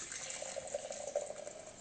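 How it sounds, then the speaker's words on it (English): Hot cocoa tea poured from a pot into a service jug in Saint Lucia, a soft steady liquid stream with gentle gurgles, faint and close, alone without talk. "I'm going to pour some of it into our service jug"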